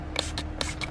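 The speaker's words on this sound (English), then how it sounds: "let's spray it on and see" Vasco prewash sprayed from a trigger bottle onto a car: four quick hissing spray bursts in an even rhythm, close and crisp.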